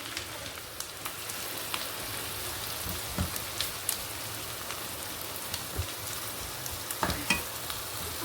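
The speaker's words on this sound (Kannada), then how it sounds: "ಆಮೇಲೆ ಈರುಳ್ಳಿ ಹಾಕ್ತಾ ಇದ್ದೀನಿ" Chopped onions fry in a pan for a chicken gravy, a steady close sizzle with occasional sharp crackles and pops and no talking.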